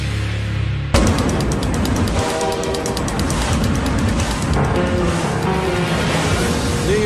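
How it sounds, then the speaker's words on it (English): A New York subway train on the rails. Low rumble at first, then a sudden loud onset of screeching and rhythmic rail clatter that stays close and continuous, with a tonal squeal near the end. "New York is famous for its legendary subway system, with millions of passengers riding the rails 24/7 every day of the year"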